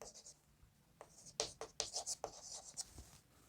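Chalk or marker writing on a board during a lecture on volume integration: a short, faint run of scratchy strokes and taps, with quiet speech around it.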